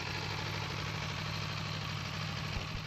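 Aprilia Tuono V4 motorcycle engine idling with a steady low rumble and vibration, close and constant without pauses.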